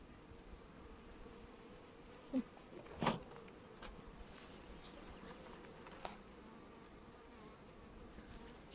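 Caucasian honey bees buzz at an opened hive of breeding stock during a frame inspection, a soft, steady, fairly quiet hum with a couple of brief knocks of handling near the middle.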